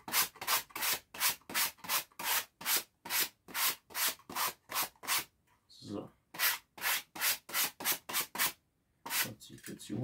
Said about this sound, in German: So, ein bisschen schleifen.